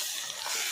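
Curry leaves hit hot oil in a pan while crab and fish fry is cooked, giving a short, bright sizzling hiss close by.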